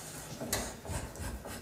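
Close hand sanding of a wooden cricket bat at the final sanding stage, soft rasping rubs in short irregular strokes with a brief sharper scrape near the start.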